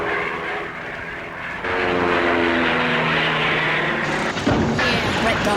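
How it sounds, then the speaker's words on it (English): A rubber-band-powered propeller toy airplane is released, and its propeller sets up a loud, steady whirring buzz that starts abruptly and holds close by for several seconds. "As I wind up this propeller, the rubber band stores energy, and that energy can be released to make the airplane fly."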